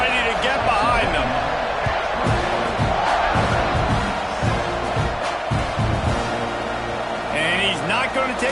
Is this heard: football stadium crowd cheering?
yes